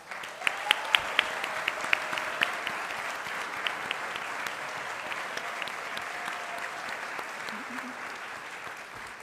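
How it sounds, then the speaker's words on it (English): An audience at a TEDx youth event applauds art students: steady, moderately loud clapping from many hands, a few sharper close claps standing out early, with a faint voice near the end. "Please, let's give them a round of applause."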